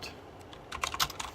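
Typing on a computer keyboard during a livestream, a short burst of quiet, close keystrokes that grows busier toward the end.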